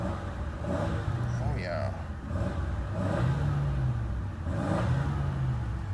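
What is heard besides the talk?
1988 Oldsmobile Cutlass Ciera engine revving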